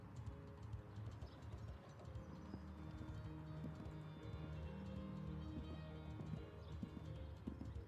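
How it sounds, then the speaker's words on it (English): A horse in extended canter during a dressage championship team competition gives faint rhythmic hoofbeats over a distant arena background murmur, quiet and continuous throughout. "Very nice extended canter, gaining a lot of ground cover here."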